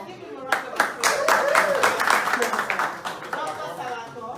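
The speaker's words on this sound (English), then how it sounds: "let's give him a round of applause." Hands clap across an audience at a townhall fundraiser in Oakland and San Francisco, a brisk burst of applause that swells and then thins out, with voices and chatter mixed in.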